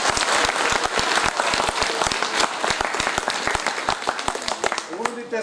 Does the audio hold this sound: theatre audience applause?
yes